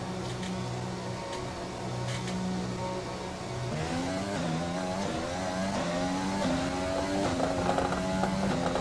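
Racing cars in the F1 2020 video game at the Russia qualifying session, engine tones rising and overlapping as several cars pull away, steady and loud throughout with no talk.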